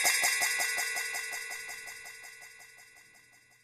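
A short sound with a Pro Tools delay effect applied, its repeating echoes pulsing steadily and fading gradually over several seconds, with no voices.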